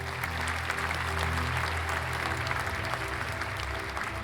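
Steady, dense applause from many hands, sustained at an even level throughout over a low background drone with no voices.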